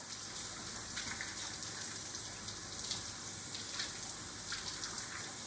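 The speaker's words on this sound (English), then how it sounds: "stick them back under the water and wash all that soap off" Tap water runs steadily from a faucet into a sink while hands are rinsed of soap, a constant close hiss with faint splashing changes and no talking.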